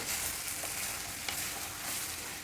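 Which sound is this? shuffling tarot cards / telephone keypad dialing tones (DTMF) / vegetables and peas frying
vegetables and peas frying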